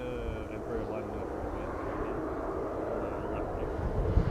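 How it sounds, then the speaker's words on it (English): Narrow-body airliners lining up on the runway at Amsterdam Schiphol Airport, a distant continuous jet engine whine and rumble that swells slightly toward the end, with wind noise and talking over it. "Some narrow bodies lining up on the runway further to the south."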